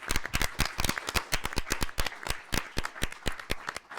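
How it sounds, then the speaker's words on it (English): A small audience applauds the three winners at a short story contest awards ceremony: a brisk, steady run of crisp, close hand claps from a few people, with no talking over it. "Let's give them a round of applause."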